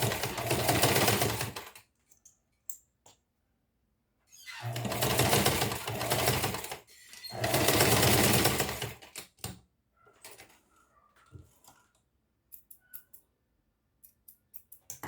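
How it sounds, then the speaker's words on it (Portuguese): A sewing machine runs a short safety seam to hold a strap at the zipper of a school pencil case, in three bursts of steady rapid stitching with quiet pauses and small clicks between them. "Só uma costurinha de segurança aqui para prender a alça."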